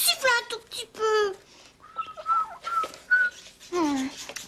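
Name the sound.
child whistling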